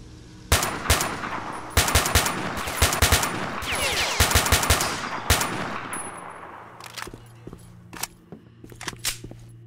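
AK rifle firing in STALKER: Shadow of Chernobyl, several sharp bursts and single shots over a low hum, then scattered fainter shots and metallic clicks, no talk.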